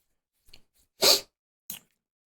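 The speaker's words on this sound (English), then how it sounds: "Trying not to sneeze here." A single sharp sneeze bursts out loudly in a quiet room, with a faint breathy intake before it and a smaller follow-up sound afterward.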